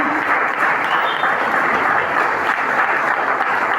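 A church congregation at a seminar claps and cheers steadily and loudly, a dense wash of applause and voices that runs without a break.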